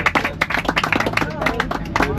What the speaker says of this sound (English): Give yourself some applause.